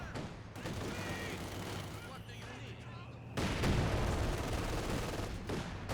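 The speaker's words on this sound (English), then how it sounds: "the Pioneers do get suppressed there by the MG42" MG42 machine gun fire in Company of Heroes 2, rattling bursts and battle noise under a busy soundscape of distant gunfire, growing denser and louder partway through.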